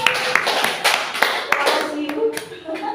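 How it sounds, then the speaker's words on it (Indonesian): A group of teachers at a special-needs school workshop claps together in a quick series of sharp, spaced claps, with voices talking in the room. "Tepuk tangan sekali."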